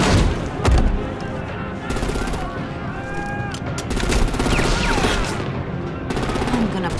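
Gunfire in Batman: The Enemy Within: rapid bursts and volleys of shots over a dense game soundtrack. The shooting is loud throughout, with game voices heard in between.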